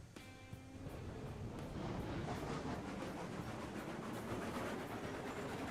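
Train rumbling along the track in the railway simulation game Railroads Online, a steady broadband roar with a few horn-like tones near the start, moderately loud and continuous.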